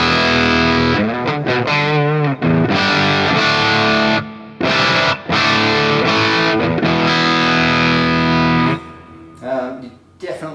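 An electric guitar played through a Bogner Ecstasy 101B amp set to plexi mode with the gain fully up: loud, sustained distorted chords and single notes ring out in several phrases, separated by brief gaps.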